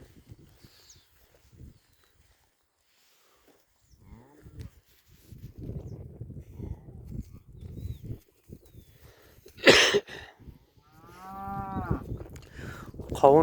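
Cattle on a farm low in a few deep moos among calves and oxen, with a loud harmonic call late on, over scattered footsteps and rustling nearby.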